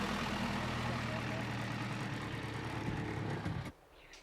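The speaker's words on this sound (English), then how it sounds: "the Isuzu doesn't want to go up the incline" An Isuzu 4x4 engine labours steadily at low revs on a rocky slope at an off-road club challenge, with a continuous loud rumble that cuts off abruptly near the end.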